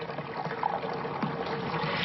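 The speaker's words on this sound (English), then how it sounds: "all I need to do is to step on this unit to pump water through this filter system" Water pumped by stepping on a foot-operated carbon filter unit, a steady trickling and pouring rush that runs continuously at moderate level.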